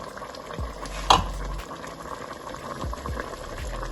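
A pot of Ukrainian bograch stew simmers and bubbles, with soft popping and a few clinks and thumps from stirring or adding salt, close and moderately loud.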